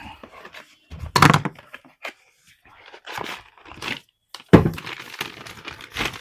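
Packaging around an FCC paper clutch plate is torn open and handled, giving loud, close bursts of crinkling, ripping and rustling with short quiet gaps between them.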